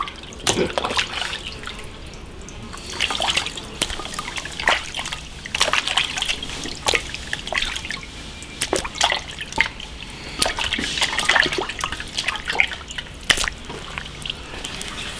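Beef ribs being rinsed under running water, with steady trickling and irregular drips and splashes close by, no talking.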